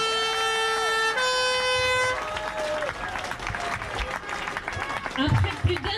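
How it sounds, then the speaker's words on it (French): Steady crowd applause at a street protest in Besançon defending hospital workers and caregivers, mixed with sustained horn or siren-like tones and nearby voices talking throughout. "Hélène, sous vos applaudissements."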